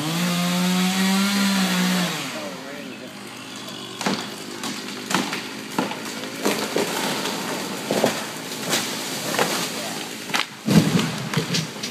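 A chainsaw runs loudly for a couple of seconds and cuts out, then a felled tree crashes down with a long run of cracking branches and heavy thuds.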